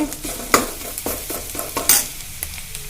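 Vegetables and onion stir-frying with ginger-garlic paste for veg noodles, a steady sizzle broken by repeated scraping clatters of a spatula against the pan, close and fairly loud, with no talking.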